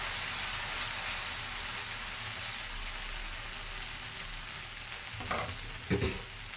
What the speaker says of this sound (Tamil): அம்மா வந்து தோசை ஊற்ற